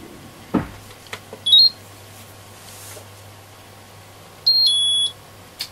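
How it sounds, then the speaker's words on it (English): An electronic component tester hooked to a diode from a Herald RP35 radio gives short electronic beeps: a brief one early, then a longer tone near the end, over a quiet background hum with a few small clicks. "let's hook up my component tester to this diode"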